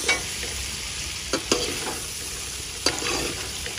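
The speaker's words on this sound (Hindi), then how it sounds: "अब हम भिंडी को ना अच्छी तरह से ऐसे घी में मिक्स कर देंगे" Okra stirred in ghee in a village kitchen, a soft continuous sizzle broken by a few sharp scraping clicks of the spoon against the pan, with no one speaking.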